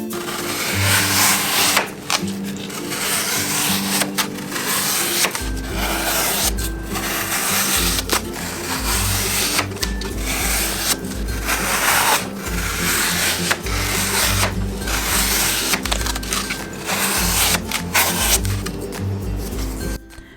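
Craft foam is cut to fit inside a cup, with repeated rough scraping and crunching strokes close to the mic and a low rumble running underneath.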